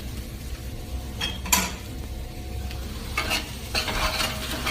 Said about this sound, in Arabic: وحمسها مع البصلة بس قلبتين ثلاث